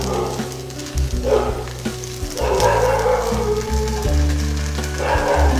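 Paniyaram batter fries in a little oil in a paniyaram pan, a loud close sizzle that rises and falls in bursts over a low steady hum, with no speech.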